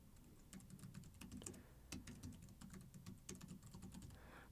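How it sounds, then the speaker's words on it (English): An email address is typed on a computer keyboard, quick irregular key clicks in bursts, close and faint, with no voices. "we will type in the email address for the portal user"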